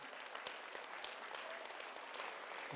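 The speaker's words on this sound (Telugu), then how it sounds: "ఒకసారి నిలబడి క్లాప్ ఇద్దాం" Audience members at a holistic education workshop in Kadthal clap together in a steady, dense patter that runs unbroken the whole time, with no talk over it.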